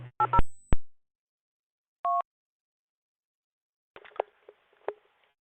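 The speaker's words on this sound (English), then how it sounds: "It is an audible DTMF at the end." A DTMF tone burst comes through a radio repeater: one short two-tone beep in the middle, between clipped bursts and squelch noise of radio transmissions, with no talk.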